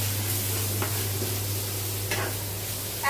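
A ginger, garlic and cumin spice paste fries lightly in a pan with a steady soft sizzle, a constant low hum underneath and a few faint stirring scrapes.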